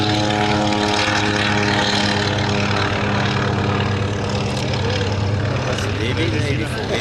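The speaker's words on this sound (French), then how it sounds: "Décollage de l'Antonov 2." An Antonov An-2 biplane's radial engine roars close by at full power during takeoff, a loud, steady propeller drone that fills the whole stretch, with people chatting underneath.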